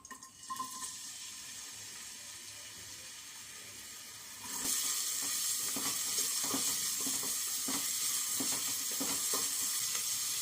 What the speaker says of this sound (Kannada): ಇಲ್ಲಿ ಎಣ್ಣೆ ಕಾದಿದೆ ಈರುಳ್ಳಿ ಹಾಕೋಣ